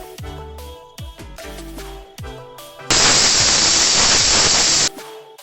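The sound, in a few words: beef cooking in a pressure cooker, steam hissing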